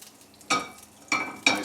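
Seared tuna sizzles in olive oil in a hot pan. Three separate bursts of hissing sizzle rise sharply over a quiet background and fade between them.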